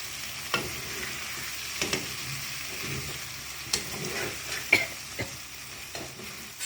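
Spiced potatoes seasoned with chaat masala and black pepper are stirred gently in a frying pan, with a soft steady sizzle broken by about a dozen sharp scrapes and taps of the spoon, close and without talking.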